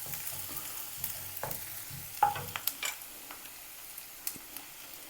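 Coriander leaves stirred into rava upma in a pan, a soft sizzle with scattered scraping clicks of a spoon against the metal, fairly quiet and close, no voices.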